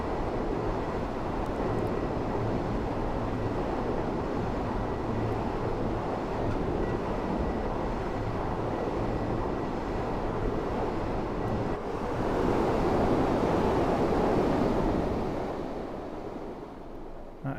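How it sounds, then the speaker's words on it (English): A fast train passes in Train Sim World 3 on the Waverley to Queen Street line: a long, steady rushing roar that swells louder near the end, then fades away. "That is a fast train."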